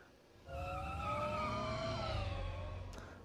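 A graper motorbike from Anonymous;Code revs up, a loud rising whine of layered engine tones that holds steady for a few seconds and then fades slightly, with no one speaking.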